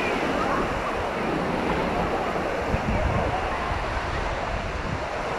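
Waves breaking at Aksa Beach in Mumbai give a continuous broad roar of surf with wind buffeting the microphone, loud and close throughout.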